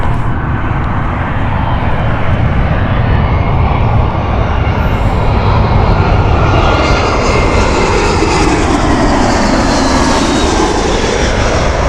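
A Boeing 777 passes close and loud, its heavy engine roar swelling and then sliding downward in pitch as the jet moves by and away, with no talk over it.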